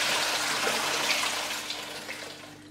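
Rice and toor dal being washed in water in a home kitchen, a steady running, splashing wash that fades slightly toward the end, close and alone with no talk.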